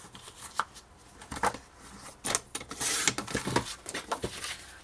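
Paper being cut for a scrapbooking page, soft snipping and scraping strokes in an irregular series, faint and close, with no talk.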